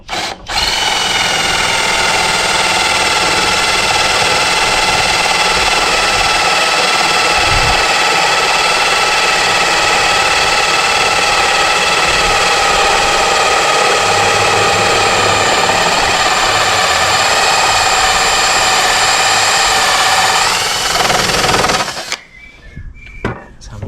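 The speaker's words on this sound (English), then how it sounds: "let's just drill this right on through here" A power drill whines steadily and loudly, boring through wood for about twenty seconds before stopping abruptly, followed by faint handling noise.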